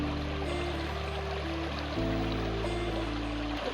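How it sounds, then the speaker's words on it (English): The Colong River flowing in Kanangra Boyd National Park, a steady broadband rush of water heard close and continuous, with a low hum underneath. "we've made it down to the beautiful Colong River"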